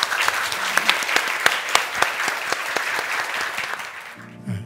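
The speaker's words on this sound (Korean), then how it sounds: "큰 박수로 맞아주시죠" An audience in a Korean church applauds warmly to welcome an elder coming up to give testimony. Distinct claps ring out steadily at close range for about four seconds, then stop abruptly.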